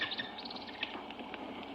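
A bird calls in a run of quick, shrill chirps over a dense, hissy background, fairly faint and continuous with no talking.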